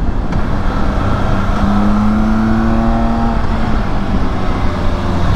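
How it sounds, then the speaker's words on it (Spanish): A BMW K1600 GT touring motorcycle pulls hard while riding, its engine note rising in a smooth, continuous whine over steady wind and road roar, heard from the rider's position. "el motor recupera muy bien desde bien abajo"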